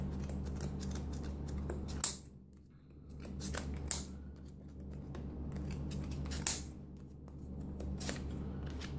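Scissors snipping through a yarn pom pom during trimming, crisp quiet cuts at irregular intervals over a low steady hum, close and soft, no talking.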